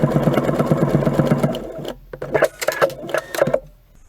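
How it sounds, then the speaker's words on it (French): Sewing machine stitching along pinned fabric to join two pieces for bias binding: steady rapid mechanical chatter at first, then shorter stop-start bursts of stitching, close and fairly loud. "Je viens coudre là où j'ai mis mes épingles."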